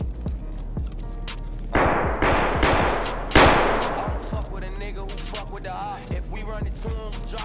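Rapid gunfire in Escape from Tarkov, several loud bursts of automatic shots with ringing decay, followed by softer scattered pops and a low steady hum underneath.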